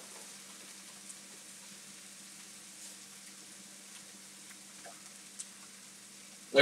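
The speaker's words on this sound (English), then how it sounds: "Keep them moving so they don't stick and burn to the bottom of the pan." Onions sauté in a little butter in a pan, making a soft, quiet, continuous sizzle with a few faint clicks and a short louder knock at the very end.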